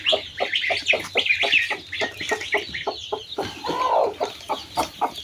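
A desi hen with newly hatched chicks, heard close up as steady, rapid, high peeping from the chicks over the hen's soft low clucking, with no talk.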